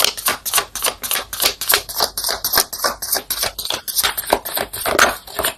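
Tarot cards are shuffled in quick rhythmic bursts, a rapid close patter of riffling and flicking cards repeating steadily with no talking.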